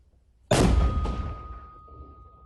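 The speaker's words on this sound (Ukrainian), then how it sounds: "120-мм мінометом кришать загарбників. Постріл!" A single heavy 120-mm mortar shot booms out sharply, then a long rumbling echo fades over a couple of seconds, with a faint steady tone lingering.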